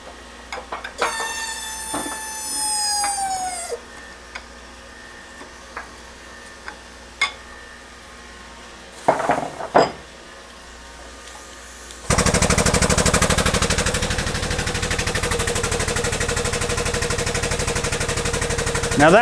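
A 40 plus 5 microfarad, 370-volt capacitor under a hydraulic press, heard as scattered sharp cracks and snaps, then a loud, steady grinding roar of the press that runs to the end.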